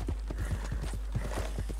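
A horse galloping in Red Dead Redemption 2, with quick rhythmic hoofbeats thudding close and steady beneath a low rumble.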